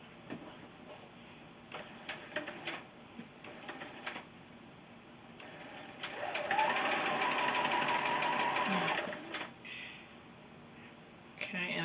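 A sewing machine stitches a quilt 4-patch block: scattered clicks and short taps give way to a steady, close run of stitching in the middle, then more clicks as it stops.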